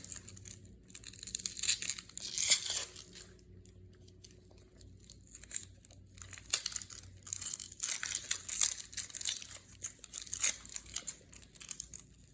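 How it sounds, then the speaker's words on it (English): Papery outer skin being peeled off an onion in a kitchen, dry crinkling and tearing crackles coming in close, intermittent bursts with quiet pauses between. "I like to peel the top layer off the onion"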